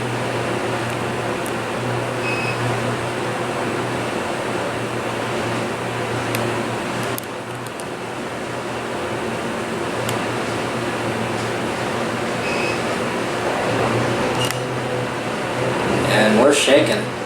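An elevator car rides between floors in the Cathedral of Learning, giving a steady mechanical hum and whir with a few faint clicks and rattles that swell slightly near the end, while someone talks under it.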